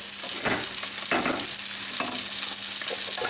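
Vegetables fry on high heat in a pan while pork is pot roasted, a steady close sizzle broken by a few louder stirring scrapes as they are slid off.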